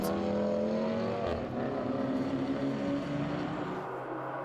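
BMW race cars battle closely on a circuit during a Belcar Series endurance round, engines roaring loud and continuous with shifting pitch as they pass nearby.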